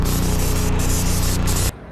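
An airless paint sprayer fitted with a 450 low-pressure tip blasts top coat onto a commercial factory building in a loud continuous hiss with slight pulsing, then cuts off abruptly near the end.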